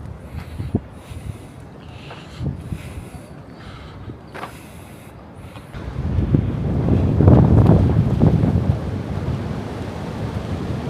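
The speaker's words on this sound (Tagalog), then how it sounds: "Ang lakas ng hangin." Strong wind gusts buffet the microphone in Sherwood Forest, Nottingham, England, starting as scattered rumbles and swelling into a loud, sustained roar in the second half.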